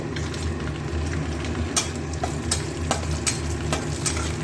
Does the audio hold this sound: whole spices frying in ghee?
yes